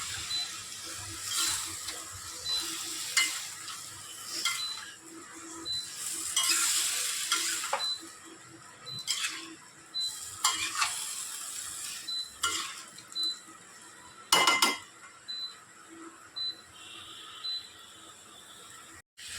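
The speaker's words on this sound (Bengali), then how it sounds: "আমি অল্প একটু জল দিয়ে এবার ভালো করে এটাকে কষাবো" Spice paste for a wedding-style pointed gourd and prawn curry is stirred and sizzled in a pan with a splash of water, with repeated scraping strokes over a steady hiss and a brief watery splash partway through. No one speaks.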